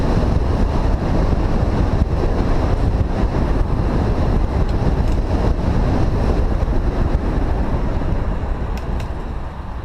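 Strong headwind roars across a microphone during a bicycle ride near a bridge in North Sydney, a loud, steady, buffeting rush that fills the whole stretch, with no talk.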